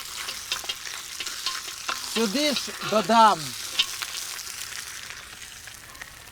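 Pork ribs sizzling and crackling in a hot cauldron, a constant frying hiss, while someone speaks briefly over it.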